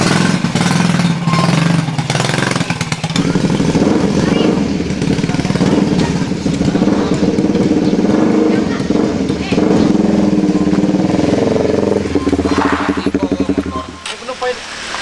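A motorcycle engine runs steadily and loudly, a rough continuous rumble that holds for about fifteen seconds before easing slightly at the end, with people talking over it.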